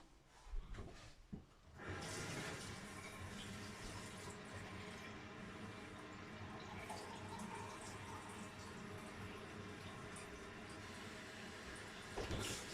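Tap water running into a half-liter Pyrex jug for a wine kit: a few handling knocks, then a steady close gush of filling water for about ten seconds, ending with a brief clatter.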